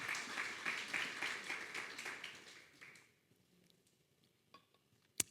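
A church congregation applauds for about three seconds, a dense patter of clapping that fades out, followed by a few faint clinks and a sharp tap near the end.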